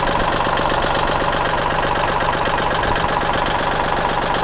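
A Kubota L3608 diesel tractor engine idles close by, a steady rapid knocking chug with even rhythm and no voices over it.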